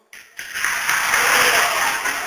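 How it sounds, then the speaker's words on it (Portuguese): A church congregation breaks into applause after a brief quiet start, the clapping building quickly into a dense, sustained wash of many hands filling the room. "Pode aplaudir o Senhor?"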